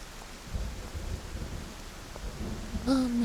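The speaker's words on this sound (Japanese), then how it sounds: "雨。" Steady rain hisses in a haunted-property horror video game, with a low rumble of thunder rolling underneath at moderate loudness and a brief voice-like tone near the end.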